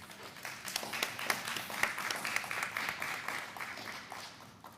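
A debate competition crowd breaks into steady applause for the debating teams, with a dense, even patter of many hands clapping throughout and no break.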